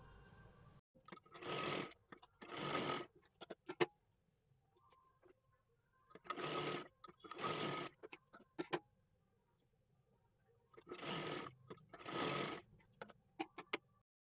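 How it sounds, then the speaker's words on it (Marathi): A sewing machine joins blouse piping strips in short, quiet paired bursts of stitching, three pairs with silent gaps between them. Light clicks from handling the fabric are scattered throughout. "इथे पूर्ण व्यवस्थित शिलाईसुद्धा मारून घ्यायची आहे"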